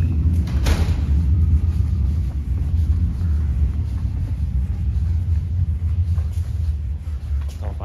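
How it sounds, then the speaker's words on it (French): An REM train arrives at Central Station, heard as a constant heavy rumble with a faint hiss, loud and close throughout. "on entend la voiture, le train arriver."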